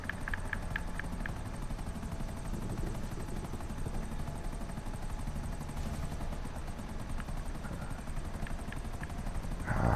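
A Buzzard attack chopper in GTA Online drones steadily throughout, its rotor thrum and engine whine holding constant and close, with a few faint clicks near the start and a brief bump at the very end.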